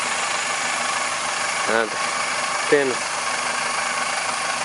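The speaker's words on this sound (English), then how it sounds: "now there is motor running" A car engine idles steadily in a continuous low rumble with jump-start cables attached to charge a flat 12V/24V battery, with a voice briefly speaking over it.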